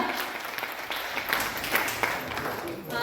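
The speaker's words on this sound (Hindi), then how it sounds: "जोरदार तालियां" Audience applause at a women's honouring ceremony in India, a moderately loud, continuous clapping from a crowd with voices faintly mixed in.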